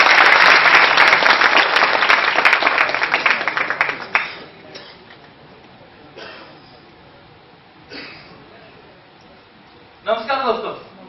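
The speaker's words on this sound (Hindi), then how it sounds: "मंच पर एक बार फिर से आप सभी लोग जोरदार तालियों का स्वागत कीजिए" Loud, dense applause from a meeting audience at Anaicha Palace in Kanpur rolls on for about four seconds, then drops away to a quiet room murmur broken by a few short bursts of speech.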